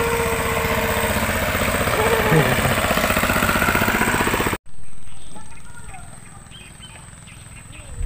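A motor boat engine putters in a Lantebung mangrove in Makassar, loud and rhythmic at first, then cut off abruptly and returning fainter and more distant, fading away.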